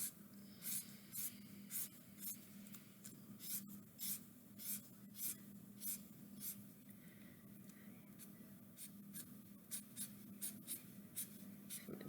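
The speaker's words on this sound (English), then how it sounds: "I'm going to draw some stems." A pen sketches flower stems on paper, giving a steady run of short scratchy strokes that repeat quickly and sound close and clear over a faint background hum.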